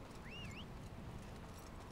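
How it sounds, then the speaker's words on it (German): Horse hooves clip-clop steadily in Dynasty Warriors 9 as a mount is ridden, a continuous galloping patter under game ambience with a brief whistling tone near the start. "Oh, jetzt kann ich mit dem Pferd nicht aussteigen."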